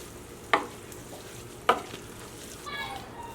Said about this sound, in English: Finally give it a perfect stir